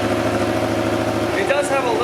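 Yamaha FZ-07 motorcycle fitted with a new exhaust, idling with a steady, close, low rumble that shifts slightly near the end as a voice briefly cuts in.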